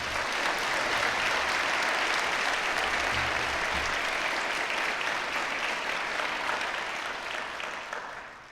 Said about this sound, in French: Applaudissons nos invités d'honneur.